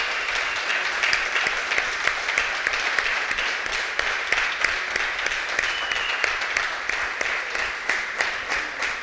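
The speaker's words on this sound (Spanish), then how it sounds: "Dale un fuerte aplauso a nuestro Dios." A church congregation at a Sunday celebration service breaks into sustained applause, dense rhythmic clapping that carries steadily throughout, fairly loud and close with a faint voice underneath.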